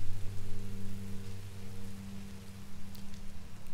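Steady rain falls in Minecraft: Story Mode, a constant even hiss of drops with a low background hum running underneath, unbroken throughout.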